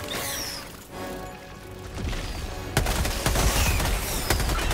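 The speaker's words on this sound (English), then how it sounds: "machine gun." Machine gun fire in the game Helldivers 2 starts as scattered distant shots, then breaks into a loud, dense burst of rapid gunfire partway through.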